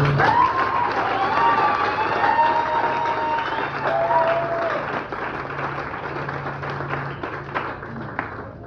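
A wedding congregation at a nuptial blessing breaks into loud, sustained applause and cheering, dense clapping with shouted voices that holds strong for several seconds before slowly thinning out.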